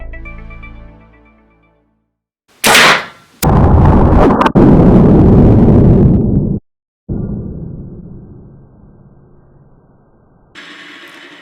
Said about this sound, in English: I'm going to go ahead and shoot it through the steel plate just to see what happens when it hits the steel